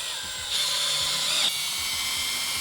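A power drill drives extra screws through a nail/screw-on door sweep, a steady whine from a drill running near and loud for about a second, then lower motor hum before and after.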